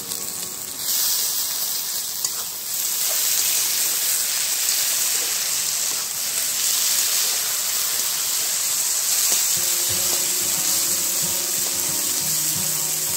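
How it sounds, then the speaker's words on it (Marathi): Chopped capsicum sizzles with onion already turning golden in a pan, a steady loud hiss throughout with occasional stirring clatter near the end. "आता आपण कट केलेली ढोबळी मिरची टाकणार आहोत त्यामध्ये, ती पण छान परतून घ्यायची।"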